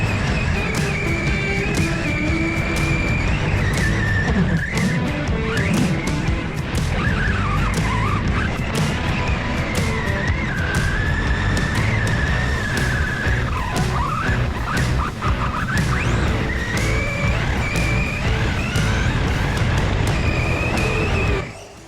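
A Team Corally radio-controlled truck races and skids, its electric motor whining steadily, rising and falling in pitch with repeated tire squeals, loud and close for the whole stretch before cutting off abruptly.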